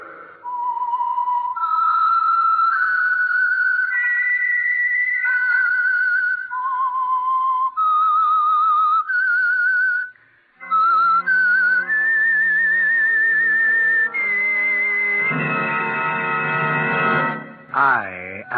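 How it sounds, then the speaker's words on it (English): A lone whistled melody, the theme signal of The Whistler radio mystery show, rises and falls through a wandering eerie tune, loud and close, ending over a swelling orchestral chord. "That whistle is your signal, the Whistler."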